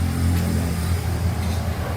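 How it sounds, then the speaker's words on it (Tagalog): An Isuzu C240 diesel engine idles close by with a rough, even low rumble and a faint clatter. The engine has a fault that makes its idle waver and gives off heavy smoke. "Isuzu 240 makina ito guys."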